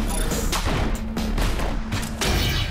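Rapid gunfire in the arena shooter Nexuiz Arcade, a loud, close burst of repeated shots and blasts packed into a few seconds with no pause.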